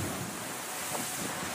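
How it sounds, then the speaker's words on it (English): Heavy ocean waves and strong wind of 30 to 40 knots roar continuously around a racing sailboat in rough southern seas, a loud broadband rush with gusts buffeting the microphone. "Incredible waves out here. We're flying down them in 30 to 40 knots of wind."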